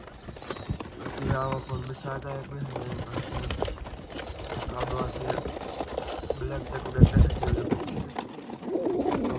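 Pigeons coo softly in low repeated phrases inside a pigeon house, with a person talking over them and occasional clatter nearby.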